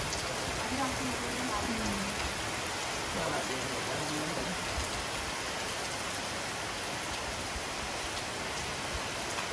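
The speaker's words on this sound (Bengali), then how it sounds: "সকালে বৃষ্টি ভেজা দিন, বৃষ্টির অনেক সুন্দর" Steady rain falls in a soft continuous hiss, with a faint voice briefly audible beneath it near the start.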